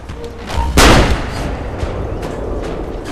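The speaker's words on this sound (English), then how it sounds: "Noise from a gunshot doesn't mean anything to these guards." A single loud gunshot blast in the video game Assassin's Creed: Brotherhood, with a booming tail ringing out early, set against a steady background rumble; no speech.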